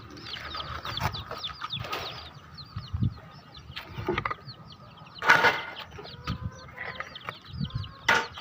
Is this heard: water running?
no